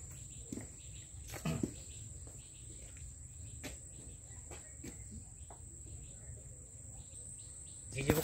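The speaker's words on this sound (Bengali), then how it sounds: "ঝিঝি পোকার ডাক শুনতে পাচ্ছ?" Crickets chirp in a high, steady drone in a forest near the Taki border area, with a few faint bird calls and occasional brief knocks over the insect chorus.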